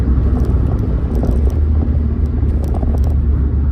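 A Rover 45 car engine drones steadily while driving, a loud, constant low rumble with road noise and no change in pace throughout.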